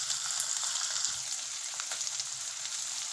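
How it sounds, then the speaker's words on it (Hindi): Finely chopped onions, two medium ones, sizzle steadily in hot oil in a pan with whole spices like cardamom, cloves and bay leaves, a dense continuous frying hiss with faint stirring clicks. "इसमें हम डालेंगे 2 मीडियम साइज की बारीक कटी हुई प्याज।"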